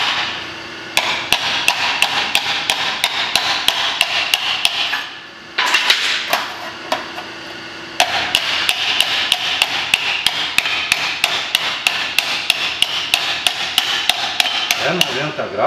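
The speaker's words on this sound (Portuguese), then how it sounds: "Você virar com o martelo." A hammer repeatedly striking sheet metal during floor pan repair on a Chevrolet Chevette, with loud, sharp, close blows in steady rapid bursts broken by brief pauses.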